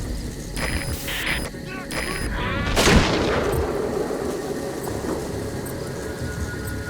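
Gunfire in the PS4 game Metal Gear Solid V: The Phantom Pain: a sharp burst of shots rings out midway over a constant dense battle din, with voices in the mix.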